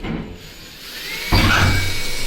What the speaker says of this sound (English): So I'm gonna drill this hole and we'll take it from there.